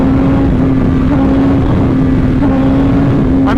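BMW S1000RR sport bike engine revving hard during a wheelie: a loud, steady, close-up engine drone with a sustained tone and wind rush throughout.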